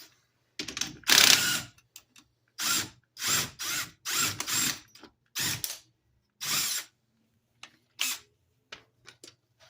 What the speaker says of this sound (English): I'm going to get our axle nut off.